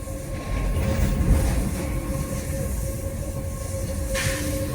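An old train on the Konkan Railway rumbles steadily through a tunnel, with loud low wheel noise, rhythmic rattling of the carriages and a faint high squeal, heard from inside with no talking.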